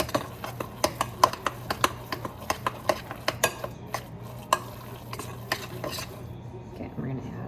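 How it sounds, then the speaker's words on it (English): Hands mash and knead a wet meatloaf mixture with kosher salt in a bowl, making a rhythmic series of soft squelching slaps and knocks. The sounds come close and fairly even, then thin out toward the end. "I'm going to mash all this together."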